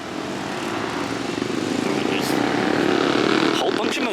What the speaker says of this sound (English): Bunch of motorbikes driving out.